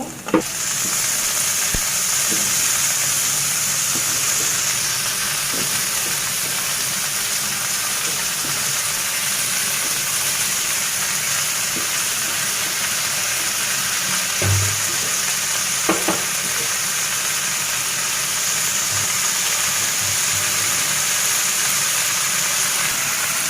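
Radish greens fry with onion and garlic in a pan, giving a loud, even, continuous sizzle close up. A few soft thumps from stirring come and go throughout, and nobody speaks.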